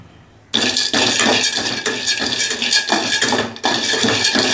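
Peanuts dry-roasting in a metal pan for groundnut laddus, rattling and clinking in bursts as they are stirred and tossed, loud and close after a quiet start, with a short pause near the end.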